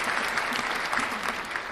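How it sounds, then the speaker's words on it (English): A dense round of applause from a group, steady and fairly loud across the whole moment, with no voices standing out above the clapping. "Round of applause for the thirsty daddy."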